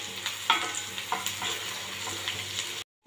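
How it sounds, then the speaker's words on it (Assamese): Two finely chopped onions fry in a little oil until browned, giving a steady close sizzle broken by scattered stirring clicks, then cutting off abruptly into silence near the end. "পিঁয়াজখিনি মই ৰঙা কৰি ভাজি ল'ম।"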